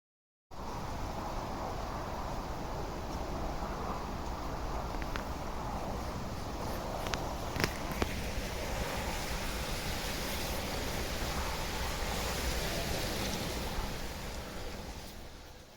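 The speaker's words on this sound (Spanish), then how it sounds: "el sonido del viento en la ribera del río" Wind blowing through reeds and cattails on a river bank, a steady broad rushing hiss that holds for about fifteen seconds with a few faint clicks and no voices.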